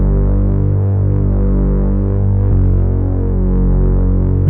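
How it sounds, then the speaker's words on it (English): Simple sub bass line for the build-up of a beat, a deep sustained low tone throbbing steadily and loud, with a hum-like character and a brief break midway. "Just a real easy bass line for the build up."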